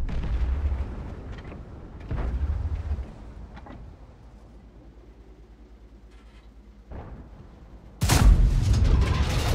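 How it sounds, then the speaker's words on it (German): Tank cannon shots in the World of Tanks video game, a few heavy booms spaced several seconds apart with a low rumble between them and the loudest blast at the end. "wo gehen die Schüsse hin"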